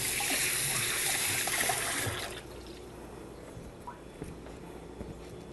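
Kitchen tap running as hands are washed, a loud steady water rush for about two seconds that then cuts to quieter drips and small splashes at the sink, no talking.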